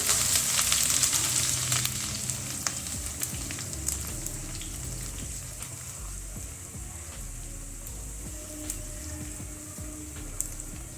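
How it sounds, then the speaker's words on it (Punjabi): Chopped garlic and ginger roasting in a pan of oil with tempered cumin seeds produce a steady, crackling sizzle, loudest at first and then settling, with faint stirring ticks. "ਆਪਾਂ ਪਾ ਦਵਾਂਗੇ ਲਸਣ ਅਦਰਕ ਇਹਨਾਂ ਨੂੰ 2 ਮਿੰਟ ਵਾਸਤੇ ਇਹਨਾਂ ਨੂੰ ਭੁੰਨ ਲਵਾਂਗੇ"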